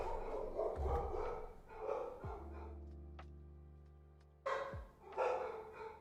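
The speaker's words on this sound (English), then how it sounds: "You guys hear these dogs?" Dogs bark in bursts close by indoors, with a quiet gap of tone-like hum in between before the barking picks up again.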